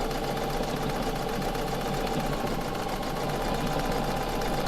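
A domestic sewing machine stitches steadily while quilting circles, giving a continuous, even mechanical hum and rapid needle patter at close range for the whole stretch, with no talking.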